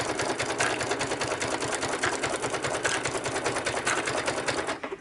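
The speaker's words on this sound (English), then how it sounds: "go right there and start sewing and back stitch" A sewing machine runs steadily at close range, sewing forward and back stitching with a fast, even mechanical whir and needle clatter that continues without a break.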